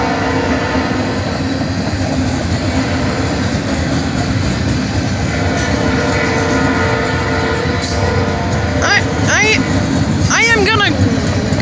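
A freight train rolls along the track at 4th Street in Chesterton, Indiana, a loud continuous rumble and rattle of wheels close by, with brief squeals near the end and voices talking over it.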